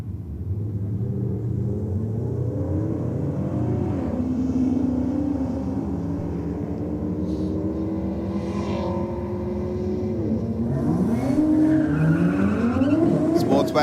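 A Sportswagen race car drives hard down a drag strip, its engine note rising and shifting through several sweeping pitch climbs, loud and close throughout with tire noise and a faint voice in the background.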